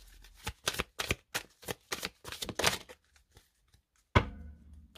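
Tarot cards shuffle in a run of quick, crisp riffles and slaps close by, then one card drops with a soft thud onto the pile before a short quiet tail.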